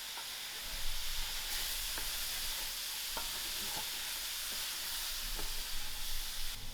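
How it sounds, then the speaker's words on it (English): Chickpeas and freshly added tomatoes fry together in a pan for chana curry, a faint, even sizzle with occasional light utensil taps. "add in your tomatoes after your chickpeas are nicely fried out"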